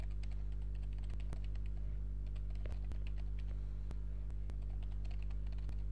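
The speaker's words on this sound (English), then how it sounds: "So for example, I just type in this." Keys on a computer keyboard are tapped in quiet, irregular clicks over a steady electrical hum, faint and close with no talking.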